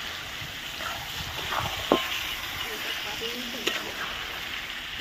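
Goat meat stir-fries in a pan with a low, continuous sizzle, broken by a few sharp clinks and scrapes of a utensil against the pan.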